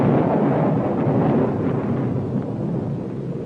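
Thunder rumbling as a storm breaks in a western TV drama, a deep sustained low roll that is loud at first and slowly fades, with no voices over it.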